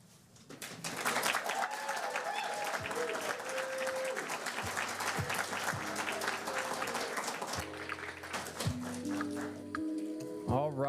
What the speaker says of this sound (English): I want to just give a round of applause to all the poets and the attendees for their time and energy today